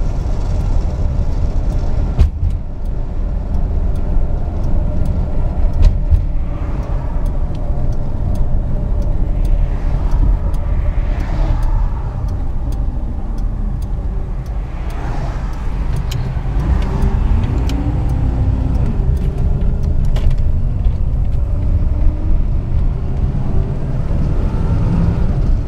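A 1962 Rolls-Royce Silver Cloud II cruising at just under 60 mph, with a steady low engine and road drone and a faint wash of wind noise throughout, no voices.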